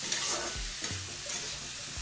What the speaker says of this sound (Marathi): अशा पद्धतीने परतून घेऊया आणि बाउलमध्ये काढून घेऊया।